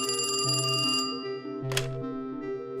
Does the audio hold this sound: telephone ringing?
yes